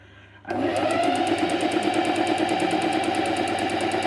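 A sewing machine stitching recycled fabric for a log cabin quilt topper starts abruptly and runs at a steady, fast mechanical rhythm. The motor whirs continuously and close up for several seconds, with no talking.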